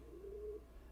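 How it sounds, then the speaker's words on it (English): A single low, soft pigeon coo, drawn out for about half a second, alone against a quiet background hum. "if you hear a bird cooing in the background, that's another one of my hobbies"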